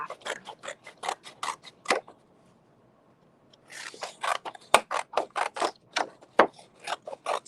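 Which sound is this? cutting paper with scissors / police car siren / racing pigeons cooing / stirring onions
cutting paper with scissors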